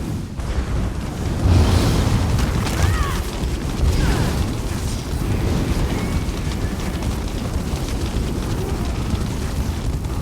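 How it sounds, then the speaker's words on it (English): A fire trap ignites in an Elder Scrolls Online dungeon, a loud whooshing roar with crackling bursts that swells early and settles into a steady burning rumble with a few faint whines over it. "Our fire trap should ignite now."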